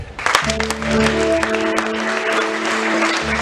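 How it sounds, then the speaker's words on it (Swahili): A congregation at a Sunday church service claps steadily, dense applause over a sustained keyboard chord. "Ongeza makofi."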